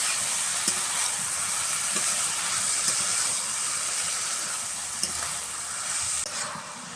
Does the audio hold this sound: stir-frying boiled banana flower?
yes